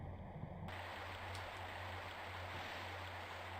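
Steady rushing water from a waterfall and flowing stream in Tomb Raider 1 Remaster, a constant broadband wash with a low hum underneath, moderately near and without voices.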